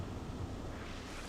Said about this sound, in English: You hear those deep water rumbling sounds